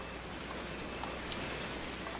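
Rain in Zelda Breath of the Wild makes a steady, dense hiss of falling drops, even and continuous with a few faint scattered ticks, and no voices.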